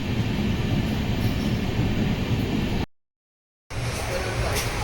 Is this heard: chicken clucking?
no